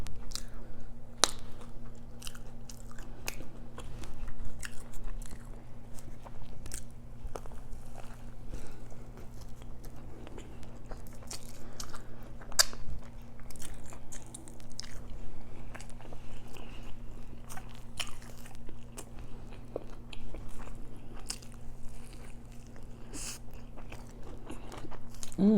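Close, steady chewing and biting on a Portillo's Italian beef sandwich, with repeated sharp crunchy bites over moist squishing mastication and a constant low hum behind it, and no talking.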